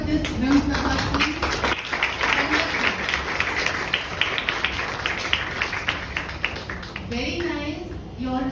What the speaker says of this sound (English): Can we have a round of applause for this Ram Sabha team?